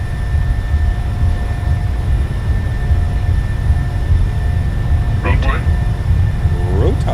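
A PMDG Boeing 737-700 rolling down a bumpy runway at takeoff power in Microsoft Flight Simulator, a steady loud engine roar with low rumbling beneath and voices talking over it.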